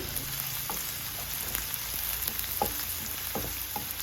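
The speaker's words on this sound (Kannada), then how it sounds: "ಹಾಗೆ 1 ಈರುಳ್ಳಿನ ಹಾಕಿ ಚೆನ್ನಾಗಿ ಫ್ರೈ ಮಾಡಿಕೊಳ್ಳಿ." Garlic, ginger and onion fry in oil in a pan, a quiet steady crackle and hiss with scattered small pops and light stirring taps throughout.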